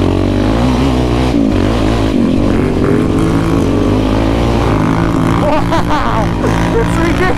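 A Can-Am Renegade 1000R ATV engine roars loud and close, revving hard with a steady, throaty drone and rising bursts of acceleration while being chased by a Raptor 700.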